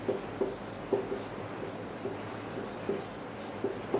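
Someone writes numbers in words during a Class 5 maths lesson, making faint, evenly spaced pen-scratch ticks over a soft background hiss, with no talking.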